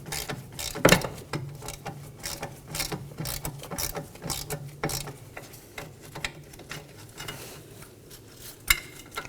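A ratchet wrench clicks in quick bursts while a 10mm bolt comes off the ABS wire bracket of a 2015-2023 Nissan Maxima, close metallic ratcheting with a sharp clank at the start and a pause near the end.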